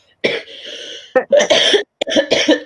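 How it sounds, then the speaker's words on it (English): A person coughs several times in harsh, rasping bursts, loud and close, with brief silences between fits. "I start coughing"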